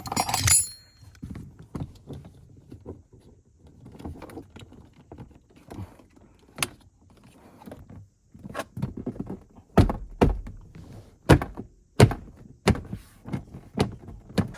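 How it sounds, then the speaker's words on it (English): A trim piece on a Lexus IS300 being pressed back into place, with irregular close knocks, thumps and plastic snaps, sparse at first and then a run of sharp, louder clunks. "Put back the trim."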